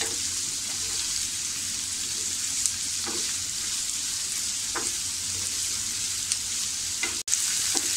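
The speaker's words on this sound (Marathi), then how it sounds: "कांदासुद्धा आपण छानपैकी असा अगदी लालसर रंग येईपर्यंत परतून" Onions sautéing in a pan for egg bhurji, browning to a reddish colour: a steady, dense sizzle holds throughout, with a few soft stirring scrapes and one brief dropout near the end.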